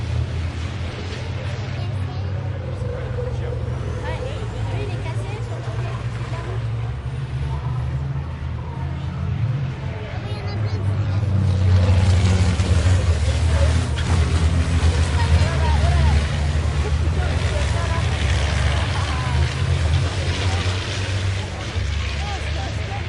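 Heavy diesel truck engines rumble and rev during a tug-of-war pull, building louder about halfway through, with a crowd's murmur and voices underneath.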